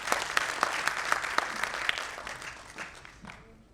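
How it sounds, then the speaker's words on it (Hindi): Audience at an annual general meeting claps together to approve a proposal, a burst of dense clapping with sharp individual claps standing out, fading off after about two and a half seconds. "एक बार सब तालियां बजा के स्वीकार कर लीजिए"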